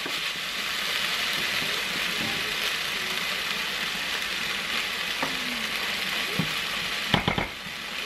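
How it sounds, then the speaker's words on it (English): Minced beef fries in a pan with a loud, even sizzling hiss throughout, while a utensil occasionally scrapes and stirs it, including a brief cluster of sharper scrapes near the end; no talking. "you just need to keep mixing until all the red is gone"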